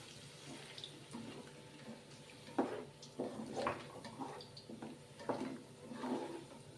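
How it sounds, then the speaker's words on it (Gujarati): Water poured into a pan of cooking dum aloo with tomato and onion, a splashing, sizzling patter in several short bursts with no talk. "તો આપણે આમાં 2 ચમચી જેટલું પાણી એડ કરીશું."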